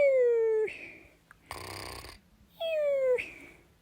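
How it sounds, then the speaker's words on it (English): A pet snoring loudly and close by: a whistling exhale that falls in pitch, a harsh rasping inhale, then a second whistling exhale, with no talking. "Hey, stop snoring. You're keeping us awake."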